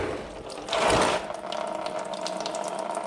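Hot coolant from a 2014 Toyota Tundra gushes out in a short, loud burst, then settles into a steady trickling, splashing flow close by.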